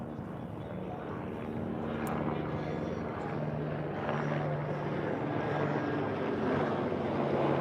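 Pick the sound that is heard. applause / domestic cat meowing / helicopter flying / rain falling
helicopter flying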